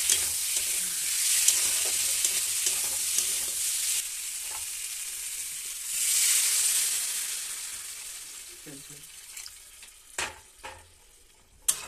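Fish frying in a pan, a steady close sizzle that swells and fades, with a few sharp clinks and scrapes toward the end.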